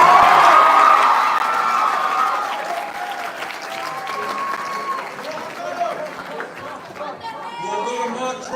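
An audience at a high school debate finals breaks into applause with cheering, loud clapping at first that fades into crowd chatter and a voice talking over it.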